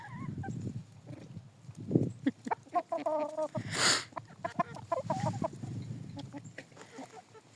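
Chickens and roosters cluck in repeated short bursts around a poultry yard, with a few louder squawks and a rustling hiss in between, fairly close and with no talk.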